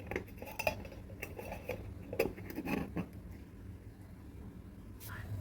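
A box holding mustard hilsa fish with green chillies and mustard oil is shut, making faint scattered clicks and small metallic clinks at close range in a quiet kitchen.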